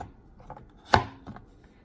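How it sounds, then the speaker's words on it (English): Knife cutting through steak on a board for keto kebabs, one sharp close chop with a couple of softer cuts around it, no talk. "I'll do a little backwards cut for you guys."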